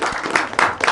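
An audience applauding for Mas Tejo, a film actor, at a cultural cinema discussion event: a short, close burst of clapping that swells in uneven waves.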